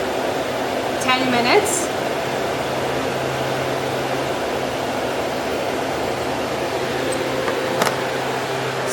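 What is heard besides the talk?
wind tunnel fan running during calibration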